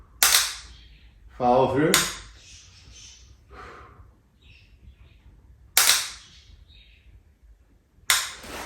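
Sharp high-power rifle shots on a 300-yard prone range, three loud cracks spaced several seconds apart, with a voice speaking briefly between them.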